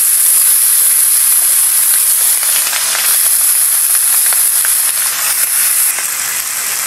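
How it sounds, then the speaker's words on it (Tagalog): Garlic and pork hit a hot pan for sautéing, a loud, steady, close sizzle with a bright hiss throughout and faint crackles, no voices. "Magigisa na tayo. Bawang. Kat. Karne."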